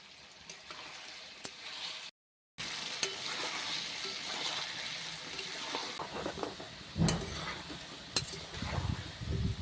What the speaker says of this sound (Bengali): আলু ভাজা করছি